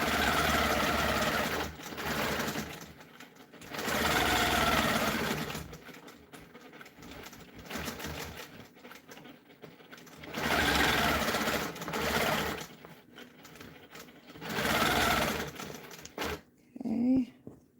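A home sewing machine stitches a half-inch quilting crosshatch line along a ruler for a continuous border, running close and loud in several long bursts with short pauses between them.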